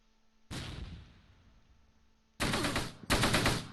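Mortar rounds land in the World War II strategy game Close Combat, set around Mue, Normandy, in June 1944: one heavy blast with a long decaying rumble, then two sharp, loud explosions in quick succession near the end, with no talk.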